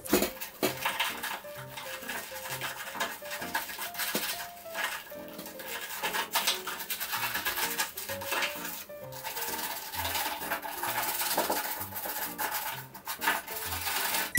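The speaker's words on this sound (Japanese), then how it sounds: "ゴムパッキンもこうやって洗っておきます。" A stiff brush scrubs rhythmically against the rubber seal at the bottom of a bathroom door, short repeated rasping strokes close up, with no voices.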